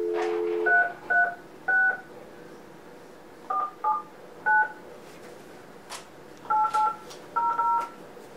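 A sequence of telephone keypad dialing tones, about ten short beeps in irregular clusters with pauses between, clear and moderately loud over a quiet background.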